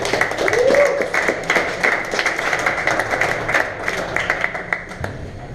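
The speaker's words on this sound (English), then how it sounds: "All right, round of applause for Mubs." An audience at a tech talk breaks into steady, fairly loud clapping that holds for several seconds, with a brief voice near the start.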